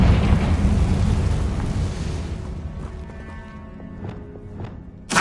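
A Confringo blasting spell explosion in Hogwarts Legacy, a loud rumbling blast that rolls and fades over several seconds, followed by a few faint crackles and a sharp thump at the end.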